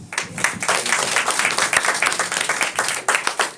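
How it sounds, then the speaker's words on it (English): An audience at a Srimad Bhagavatam class in a cultural centre breaks into dense, sustained applause, many hands clapping close together for the whole stretch, with no talking. "Again, a big round of applause"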